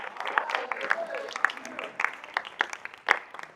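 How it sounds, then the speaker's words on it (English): An audience applauding a speaker at a lecture: scattered, moderately loud hand claps rise in quick rhythm, with a voice talking over the clapping. "So put your hands together for Dr."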